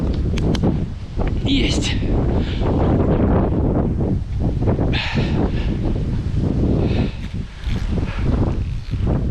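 Strong gusting wind buffets the microphone at an October riverside fishing spot during a storm with rain, a loud, continuous roar that swells and dips, with someone speaking briefly over it.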